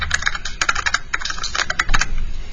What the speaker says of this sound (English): somebody's got some heavy fingers when they're typing